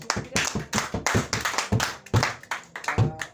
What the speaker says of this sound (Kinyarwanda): Reka dukomere ijambo ry'Imana amashyi